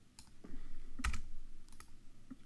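A computer mouse clicks and then the Enter key is pressed in quiet desk work with image-editing software, a few crisp, close taps spaced apart.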